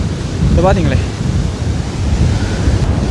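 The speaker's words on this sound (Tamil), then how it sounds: "என்ன வேகமாக வந்து கடல் அலைகள் வந்து கொண்டிருக்கேன் அங்கே இருந்து. அவ்வளவு பார்த்தீங்கன்னா காற்று அடிச்சு கொண்டிருக்கு." Strong cyclone wind buffeting the microphone and heavy sea waves crashing on a beach in Jaffna, a loud continuous roar with surging swells. Someone speaks briefly over it.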